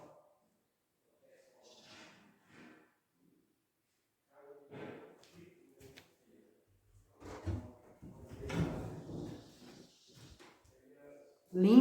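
A solid wood door on a built-in wardrobe in a house is opened in a quiet room, giving a few soft knocks and a wooden creak and thump, with a person speaking quietly nearby.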